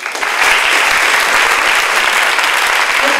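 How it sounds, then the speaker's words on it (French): A crowd applauds loudly and densely for several seconds after a speech, steady and close. "Je vous propose de commencer en les applaudissant."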